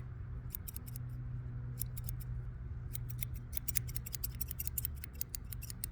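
Repeated crisp snips of scissors cutting, coming in quick clusters over a low steady hum, close and clear, recorded outdoors.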